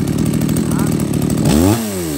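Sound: Echo 3900 chainsaw starting and running

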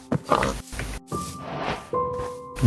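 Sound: baby pig oinking in a video game

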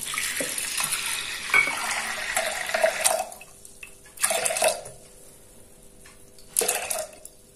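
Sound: pouring water into cooker with dal

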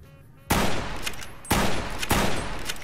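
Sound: rifle gunfire in Fallout New Vegas video game

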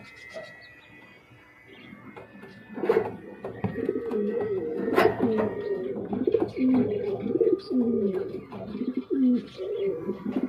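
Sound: pair of White Beauty running pigeons cooing

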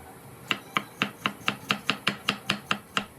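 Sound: knife chopping tomato

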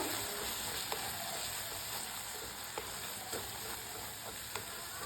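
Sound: spices frying in oil

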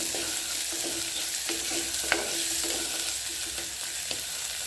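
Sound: vegetables frying in oil

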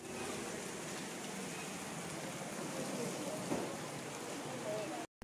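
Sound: rain falling

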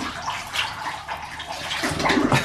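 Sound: water trickling into a bath

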